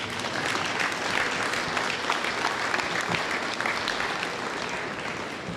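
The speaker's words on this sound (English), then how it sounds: "Please give those guys a round of applause." An audience claps for standing junior high football players at a Gridiron Football All-American Bowl draft gathering, a loud, dense and even burst of applause sustained throughout.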